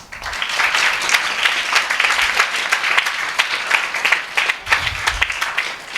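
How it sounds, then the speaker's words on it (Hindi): A crowd claps loudly and continuously for several seconds, a dense, even roar of many hands with no voices standing out. "परमेश्वर का धन्यवाद करें, जोरदार ताली बजा के"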